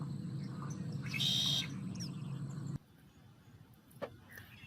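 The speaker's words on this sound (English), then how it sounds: "It's a red-winged blackbird." A red-winged blackbird calls outdoors at a saltmarsh by a boardwalk, a bright burst of song at mid distance, followed by a faint chirp after the background noise drops away.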